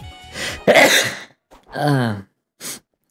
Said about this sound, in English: Sneeze, bro.